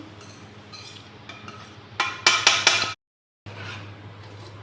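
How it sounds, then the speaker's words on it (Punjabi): Roasted wheat flour being stirred with a metal spoon in a pan on a switched-off stove while making pinni: close, loud scraping and clinking bursts, a brief pause of silence, then steady stirring resumes. "ਇਹਨੂੰ ਆਪਾਂ ਚੰਗੇ ਤਰੀਕੇ ਨਾਲ ਮਿਕਸ ਕਰ ਦਾਂਗੇ"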